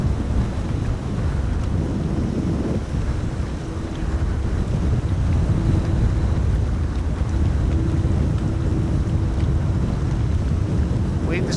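Strong Storm Amy wind at Amsterdam Schiphol Airport roars as a constant, loud, rumbling buffet against the microphone, with no one speaking.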